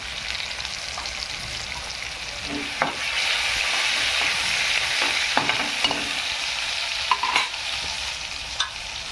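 Asafoetida and cauliflower sizzle in hot oil as a steady frying hiss, with occasional stirring clicks and pops over it, close up and with no talking.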